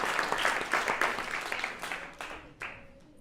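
Audience applause with some cheering at a wellness masterclass, dense clapping that starts strong and gradually thins into scattered claps before fading out.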